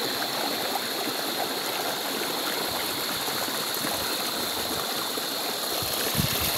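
The Laya River in Candulawan, Talisay City, Cebu flows with a steady, close rushing of water that keeps an even level throughout, and no one speaks.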